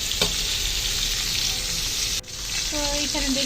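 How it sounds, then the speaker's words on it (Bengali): Chicken pieces sizzling and frying in a wok, a steady loud hiss with a brief stir or clatter partway through and a short break in the sizzle. "তো এখানে চিকেনটা কড়াই দিয়ে দিলাম ভাজা হচ্ছে"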